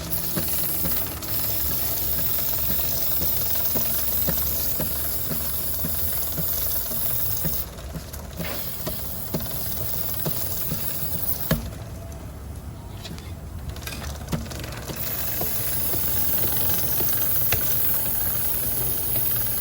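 A motorcycle chain gets sprayed with lube, bursts of aerosol hiss over a steady background, with short pauses between sprays and near, fairly loud spraying.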